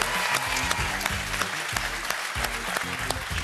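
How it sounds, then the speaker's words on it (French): A studio audience at a French TV quiz show claps warmly for contestants, brief steady applause over a low musical bed. "On va vous applaudir bien fort quand même."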